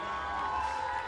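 An audience at a wrestling match at Talkatora Stadium roars in welcome for an American wrestler, a sustained wash of crowd noise and cheering with a ringing tone running through it.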